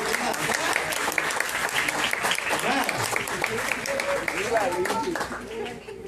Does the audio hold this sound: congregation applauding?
yes